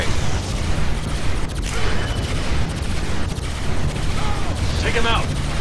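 Gunfire from units in a Command and Conquer 3 Kane's Wrath battle, loud bursts of shots and booms running throughout, with game voices speaking over them.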